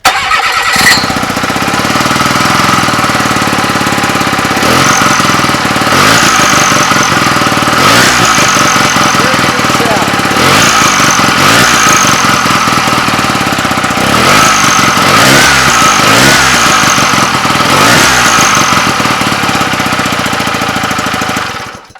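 A Hercules W2000 Wankel rotary motorcycle engine runs on full choke, giving a loud, steady, rough drone with repeated surging bursts throughout, alone with no talking, before it cuts off at the very end.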